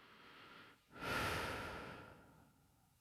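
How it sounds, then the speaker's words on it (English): A boy crawling along the floor gives one sharp, close huff of heavy breath, a sudden rushing exhale that fades away over about a second. "Heavy breathing."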